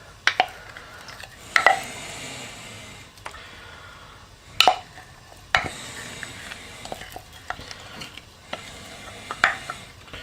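A vinegar, herb and spice mix is stirred in a pot, with a soft continuous swish broken by a handful of sharp clinks and scrapes as the utensil strikes the pot.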